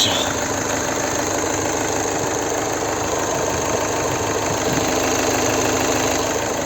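A 2013 VW Sharan 2.0 TDI diesel idling smoothly and evenly, close and steady with a faint diesel knock and constant low hum, no talking over it.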